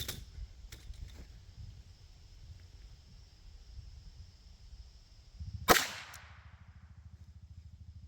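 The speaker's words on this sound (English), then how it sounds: "that was a nice shot with the 22 long rifle" A single sharp crack from a .22 long rifle rings out once, loud and close, with a brief decaying tail against a quiet outdoor hum.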